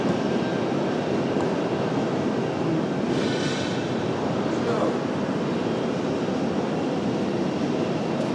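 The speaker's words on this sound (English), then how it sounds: "There is the diversion from Charlotte, the 737 touching down." A Boeing 737 airliner touches down at Raleigh-Durham airport, a dense, continuous roar of engines and rushing air that stays loud and close for the whole stretch, with a brief brighter hiss midway.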